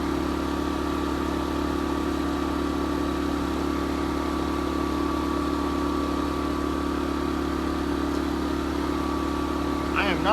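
An RV furnace blower fan runs in a faulty furnace that is not igniting, at 8,123 feet: a steady, unbroken mechanical drone with a constant low hum, close and even for the whole stretch.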